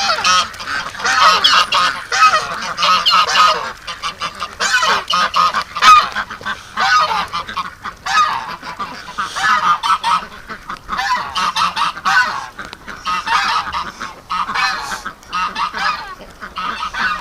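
A loud, continuous chorus of geese honking and ducks quacking outdoors as ducks are let out in the morning, overlapping calls from a large flock close by.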